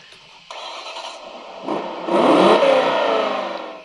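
A small RC model car engine starts and then revs, buzzing up from a quiet idle to a louder whirring rise and easing off slightly at the end, close by with no speech.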